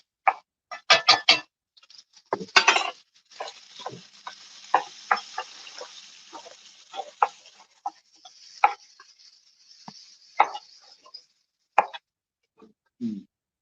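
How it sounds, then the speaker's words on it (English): A knife chops celery on a cutting board in sharp, uneven bursts of knocks, some in quick runs and others spaced apart, with faint kitchen noise between the strokes. "So we'll go ahead and break down the celery first."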